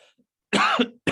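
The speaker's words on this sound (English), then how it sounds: "Excuse me, all the coughing." One harsh, close cough, followed by the start of another, with near silence before it.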